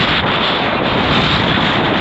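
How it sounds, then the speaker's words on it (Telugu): Strong wind buffets the microphone near the Koraigad Fort trek at Lonavala, a loud, continuous roaring rush with no voices. "ఈ గాలి చూడండి, లాగేసేటట్టు ఉంది."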